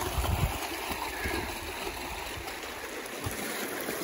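The Israel River near Jefferson, New Hampshire, pours through a gold prospecting sluice in a steady, close wash of rushing water. Faint gurgles and a few low thumps sit underneath, with no voices.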